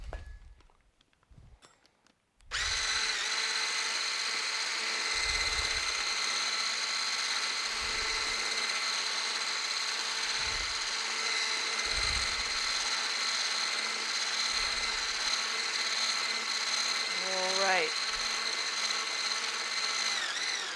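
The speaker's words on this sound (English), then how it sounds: "Back to the immersion blender." A loud, steady motorized whir of an immersion blender runs continuously after a short quiet start, with rhythmic low thumps and a brief voice near the end.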